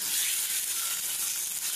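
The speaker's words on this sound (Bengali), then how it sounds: "ওই তেলেই আমি এঁচোড়গুলোকে এবার ভেজে নেবো।" Pieces of jackfruit frying in hot mustard oil in a wok, a dense, steady, close sizzle and hiss with no voices.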